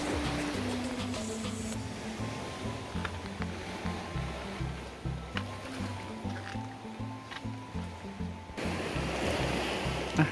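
Ocean waves break on a rocky shore seen from a raised coastal fishing and picnic spot, a continuous rushing surf wash that rises and falls, with a low rhythmic thumping pattern running underneath.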